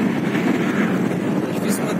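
Strong wind buffeting the microphone on the Atlantic coast along Ruta 3 in Patagonia, a dense continuous roar that sounds heavy and close throughout, with a voice talking under it.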